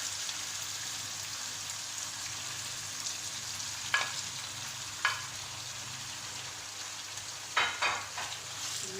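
Ground beef frying in oil in a pan for lasagne: a steady, low-level sizzle throughout, with a few brief crackles and spatters near the end and no voices.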